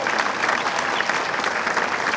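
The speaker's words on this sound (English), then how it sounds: "How about a big round of applause for all of the good guys?" A large audience bursts into sustained, dense applause at an evening awards gathering honoring past Good Guy award recipients, steady and loud throughout with no pauses.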